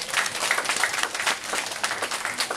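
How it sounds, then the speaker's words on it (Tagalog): A church congregation at a Holy Spirit baptism service claps hands together, a lively stream of overlapping claps at moderate distance, fairly soft but continuous throughout. "palakpak kamay sa Panginoon."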